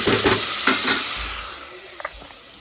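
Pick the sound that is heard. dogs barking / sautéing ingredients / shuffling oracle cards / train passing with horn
sautéing ingredients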